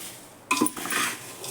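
A spoon scrapes and clinks against a pan as chivda is stirred over a gas stove, with a few close metallic knocks and soft rustling that go on for about a second.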